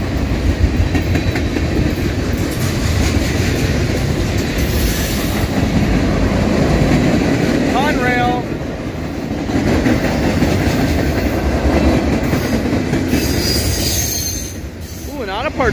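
A Norfolk Southern mixed freight train rolls past close by, a steady loud rumble of railcars and wheels with clickety-clack and brief wheel squeals, continuous throughout with a short dip midway.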